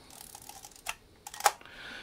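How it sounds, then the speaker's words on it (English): A Kodak Retina Automatic II camera shutter, set to manual, fires with a few faint clicks and then one sharp, crisp snap, close up in a quiet room. "and the shutter works fine."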